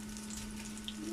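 Defrosted ripe plantain fries in hot oil in a pan, a dense, continuous close sizzle with a faint steady hum underneath.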